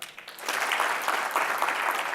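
A roomful of seated audience members claps once more during a team-building workshop, producing a sustained, even crackle of many hands that swells after a short ragged start.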